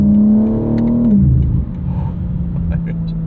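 A 2022 BMW M4 Competition xDrive engine blips sharply on a rev-matched downshift, a loud droning note that drops in pitch and then settles into a lower steady hum with cabin noise.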